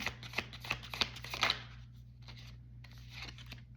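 An oracle card deck is shuffled by hand in a few quick riffling bursts, crisp papery flutters close up, then a softer shuffle after a short pause; no talking.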